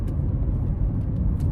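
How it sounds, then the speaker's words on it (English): Steady low rumble of road noise from inside a moving car, with a few faint higher hisses, constant and fairly loud. "Apologize for the road noise."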